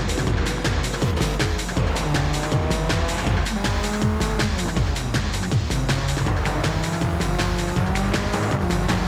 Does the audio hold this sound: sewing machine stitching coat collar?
no